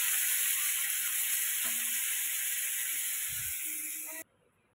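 Spices tempered in hot oil until darkened give a loud, constant sizzle and hiss close up, with a faint clink partway through, then cutting off abruptly near the end.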